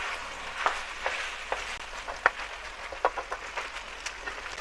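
Beef sizzles in its own fat with onion and pepper in a pan, a close, steady crackle marked by sharp pops and spits at irregular intervals, with no one talking.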